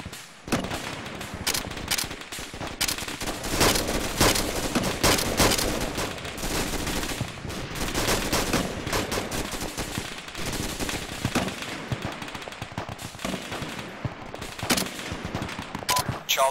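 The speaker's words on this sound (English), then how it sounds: "Fire out, rapid fire, any enemy contacts." Sustained rapid rifle and machine-gun fire from a military platoon's reaction-to-fire training, dense overlapping bursts of shots continuing loudly and nearly without pause, with faint shouted voices mixed in.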